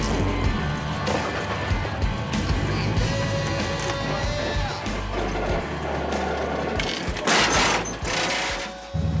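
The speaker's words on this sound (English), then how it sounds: "See how much scraping that was." Off-road vehicles such as a Jeep Rubicon, Range Rover, Nissan Patrol and 80 Series tackle an extreme rocky trail, with a close, rattling, grinding scrape of metal over rock, irregular clunks and a loud crunch near the end.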